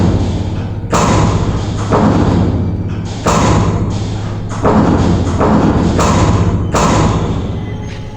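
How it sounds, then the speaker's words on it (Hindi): A door pounded hard from outside, heavy loud thuds in bursts of several blows with short pauses between, close and alone over a low hum. "दरवाजा पीटने की आवाज हर पल जोर होते जा रही थी।"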